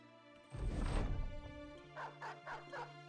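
A war dog in the video game Battle Brothers barks in one loud burst during a battle, followed by several shorter yips and whimpers over a low game soundtrack.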